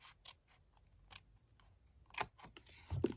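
Scissors cut a section off a paper craft pouch, a faint sequence of crisp, close snips at an irregular pace, with a louder clutch of cuts near the end and no voices.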